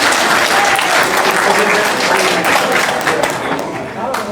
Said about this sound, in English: once we give him a round of applause